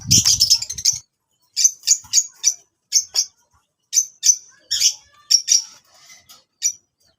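Caged pet birds, Parblue and Green Opa breeders, chirp in short, bright bursts, a quick run of calls followed by spaced single and paired tweets, close and clear against a quiet background.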